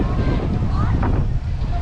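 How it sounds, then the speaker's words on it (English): Heavy wind buffets the microphone with a constant low roar outdoors at Disney Springs, while faint voices come through underneath. "I apologize for the wind today, very windy."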